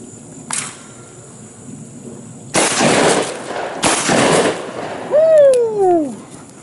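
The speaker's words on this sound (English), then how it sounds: "Now we're gonna shoot from left to right instead of going straight away" Two shotgun blasts fired at ducks and doves crossing left to right, each a sharp loud crack with a short decaying tail, spaced about a second apart, followed by a whistling bird call and quiet surroundings.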